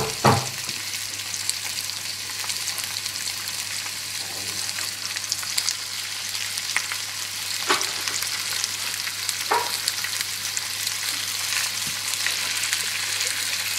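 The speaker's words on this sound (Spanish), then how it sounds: "Vamos a empezar a freír nuestras hamburguesas" Burger patties of minced meat fry in olive oil in a pan with a loud, steady, close sizzle that holds throughout, broken by a few faint utensil taps and no talking.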